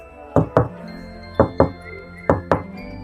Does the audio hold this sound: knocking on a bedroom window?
yes